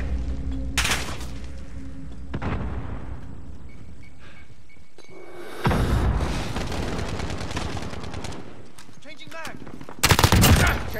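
Gunfire rattles through a Call of Duty multiplayer match: rapid automatic bursts and scattered shots, loud and close at the start and end, with distant firing, explosions and shouted voices in between.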